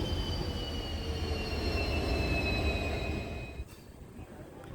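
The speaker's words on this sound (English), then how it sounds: "So here is a pair of WD-40 locomotives which will act as breakers for our journey from Castle Rock to Pune." Passenger train hauled by a pair of WD-40 locomotives at Castle Rock, a steady rumble with high wheel squeal, fading slightly near the end.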